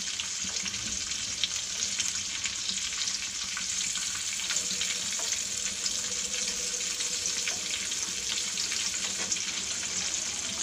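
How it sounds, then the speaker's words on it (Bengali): Fish frying in hot oil in a pan while hot oil is spooned over its top, giving a steady, close hiss and crackle throughout with no speech. "এখন গরম তেল আমি ফিশের উপরে দিয়ে দিচ্ছি, যেন উপরের সাইডটা"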